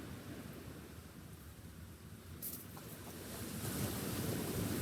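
Ocean waves at a beach roll in as a steady broadband wash with wind noise, swelling louder toward the end, with no voices.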